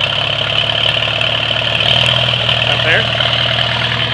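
A 1945 Farmall A tractor engine idles steadily up close, a continuous low mechanical rumble with a voice briefly over it.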